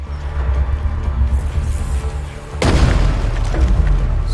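Gunfire blasts apart a piece of cover in the game Rain of Reflections: after a low rumbling ambience, a single loud explosive boom hits and trails off into a lingering roar.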